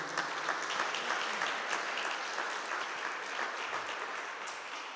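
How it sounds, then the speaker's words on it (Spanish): Sustained applause from a church congregation, a dense even wash of clapping that holds steady for several seconds with no voices over it. "dale un aplauso al Señor"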